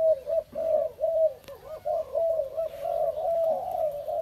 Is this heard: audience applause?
no